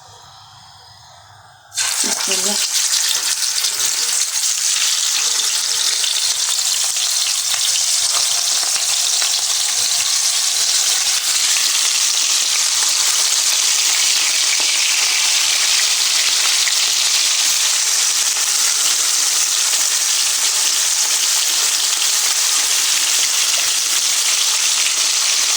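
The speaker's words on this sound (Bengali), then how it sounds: "আমার তেলটা গরম হয়ে গেছে, এখন আমি রুই মাছগুলো দিয়ে দিব।" Rohu fish slices seasoned with chili and salt drop into hot oil. After a short quiet start, a loud, continuous sizzle and spitting erupts and holds steady to the end.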